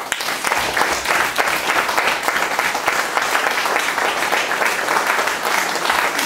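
An audience at a French literary reading applauds a poet, a dense, even wash of clapping that holds steady and full for several seconds.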